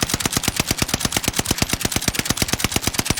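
The NZ-41 rifle fires in a video game as a rapid, even burst of sharp shots, roughly ten per second, sustained and loud throughout.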